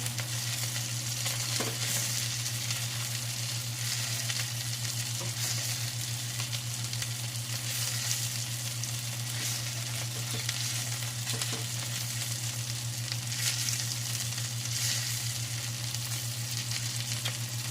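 A salmon steak fries in a pan with a continuous, even sizzle held at a steady level throughout, backed by a low constant hum and no voices.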